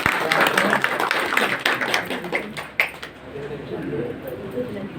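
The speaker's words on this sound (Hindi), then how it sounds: "जोरदार तालियों से एक बार इनका सम्मान करें।" Applause for an honoured guest at a kirtan gathering in Ladwa: a sustained patter of many hands clapping, dense and fairly close at first, then thinning toward the end.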